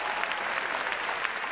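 Steady, dense applause from a large audience at a figure skating exhibition, an even wash of clapping that holds at full strength without breaks.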